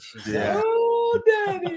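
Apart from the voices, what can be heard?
female Labrador dog whining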